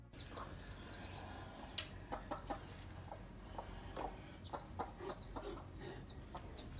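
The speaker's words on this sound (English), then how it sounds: "a mother chicken was seen tending to her clucking little ones" A mother hen clucks softly among her chicks in the wild, short scattered calls over a steady outdoor background hiss, fairly distant and faint.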